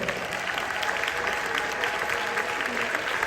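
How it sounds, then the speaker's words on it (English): An audience at a State of the City address in East Orange applauds the city council, dense and sustained clapping from a large crowd filling the hall, steady throughout with a few voices mixed in. "give them another round of applause"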